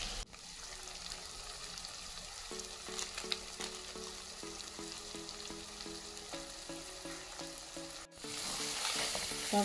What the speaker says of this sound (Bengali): তারপরে অল্পভাবে নাড়তে হবে, এত বেশি ভালো করে নাড়া যাবে না, যেহেতু ঢেঁড়স